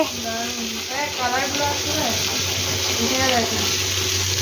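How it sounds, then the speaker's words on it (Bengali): Galouti kebabs fry in a pan, giving a constant hiss and sizzle under a voice that talks throughout. "আমি সব পুর করে দিয়েছি, দিদি ভাজছে"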